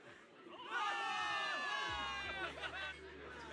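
A large crowd of soldiers cheers and shouts together in a video game, a dense wash of excited voices swelling and holding, with a low tone entering partway through.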